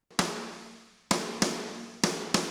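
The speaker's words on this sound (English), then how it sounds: "This is my second snare." Second custom snare sample, five crisp, punchy hits with a bright crack and brief decay, struck in an uneven rhythm with nothing else heard.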